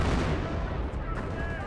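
Artillery barrage in the World War II strategy game Company of Heroes, a steady dense rumble of distant booms and blasts rolling continuously with no breaks, loud and sustained throughout.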